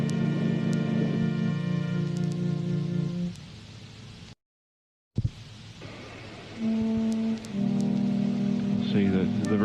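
Rain keeps falling beneath strong humming, horn-like tones, with a sudden brief silent gap midway before the rain and tones come back.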